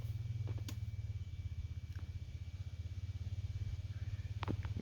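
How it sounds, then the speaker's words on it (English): A neighbour's motorbike idling or passing nearby in a quiet rural setting, heard as a low, steady pulsing engine rumble that stays constant throughout with no talking. "you hear the neighbour on his bloody motorbike making a racket"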